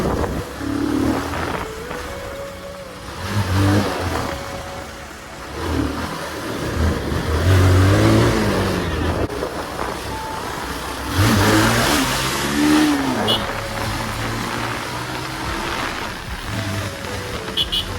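Heavy road traffic in Banur, India, with cars and motorcycles revving and accelerating nearby, engines rising and falling continuously in a dense, busy street mix.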